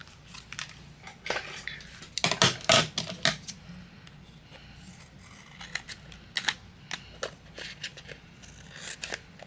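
Scissors trim the edges of card paper for a daisy greeting card, a run of sharp close snips, loudest in a quick cluster near the middle, followed by lighter intermittent cuts and paper handling.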